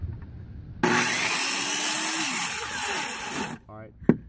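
A power saw cuts through wall sheeting on an 8x12x8 A-frame shed, a loud steady rasping run of about three seconds that stops abruptly, followed by a brief knock.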